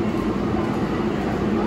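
Steady low rumble of a New York subway 4 express train at 86th Street station, a continuous droning roar with no distinct breaks.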